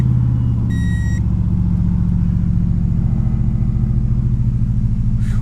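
Subaru EJ22T engine with 341,479 miles idling after a cold start, a steady, loud low rumble running throughout with a brief high electronic tone near the start.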